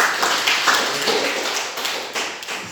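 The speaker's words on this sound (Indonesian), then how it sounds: "Jadi tepuk tangan untuk Nona Boy dulu." Audience claps together for a speaker during a teacher coaching session in Indonesia, a dense steady patter of many hands lasting a few seconds with no talk over it.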